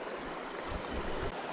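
Strong rushing flow of Game Creek in snowy winter country, a steady broadband wash of water close by with no voices.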